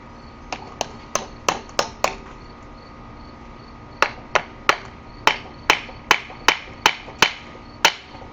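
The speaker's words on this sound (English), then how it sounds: "Big old hammer out." Sharp metallic hammer blows on a Craftsman motor case ring out in two bursts, a quick run of six, a pause, then about ten more at a steady pace, close by.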